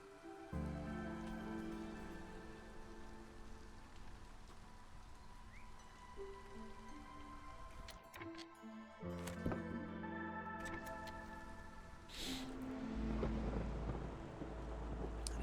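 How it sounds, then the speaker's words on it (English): A storm in the video game Against the Storm, with rain pattering on surfaces and rolling thunder under layered sustained game music, moderately quiet. "Storm comes on in."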